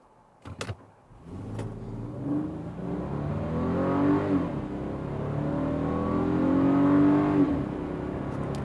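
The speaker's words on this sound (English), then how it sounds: "The engine, you can definitely hear it." A car engine revs up and accelerates steadily, its pitch climbing and holding, after a couple of brief clicks at the start.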